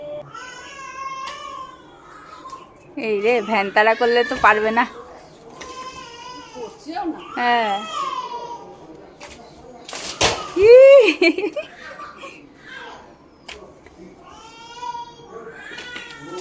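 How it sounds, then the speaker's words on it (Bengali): A baby yells and cries in the background while being fed a meal at home, loud wailing bursts rising and falling among adults talking nearby. "আর ব্যাকগ্রাউন্ডে দেখো ওর চিল্লানির আওয়াজ আসছে"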